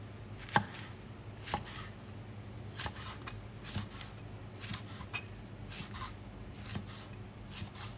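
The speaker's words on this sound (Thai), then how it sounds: "จากนั้นหั่นพริกไว้ค่ะ" Knife chopping chili peppers on a board, sharp irregular taps spaced about a second apart over a steady low hum, close and moderately loud.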